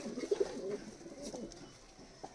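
Soft, low coos of Kalduma and Giribaj high-flyer pigeons in a loft, close by in a quiet space, a few brief throaty calls with faint background hiss.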